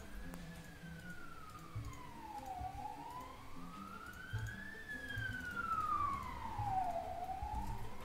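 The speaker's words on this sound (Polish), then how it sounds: "karetki jeżdżą o tej porze" An ambulance siren passes outside, wailing in long rising and falling sweeps at a moderate distance over a low background rumble, with no talking.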